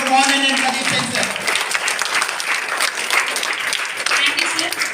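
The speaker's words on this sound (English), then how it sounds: "Big round of applause to Dr. Mohan and Pradeep Sen, sir." Audience applauding Dr. Mohan and Pradeep Sen at a Teach to Learn session, dense sustained clapping from a crowd lasting throughout, with a voice briefly audible at the start.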